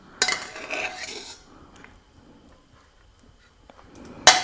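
Metal spoon scraping and clinking against a pressure cooker while cooked rice is served in a kitchen, a burst of scraping followed by quieter taps and a sharp clink at the end.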